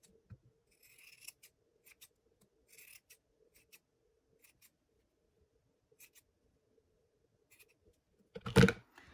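Scissors trimming a yarn pom-pom: a scatter of small, quiet snips spaced irregularly across several seconds, ending in one louder cut, with no talking.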